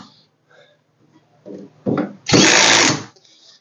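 A power drill with a magnetized screwdriver tip drives screws into an ARS EZ rack, building from short stuttering bursts to one long loud whirring run, close up.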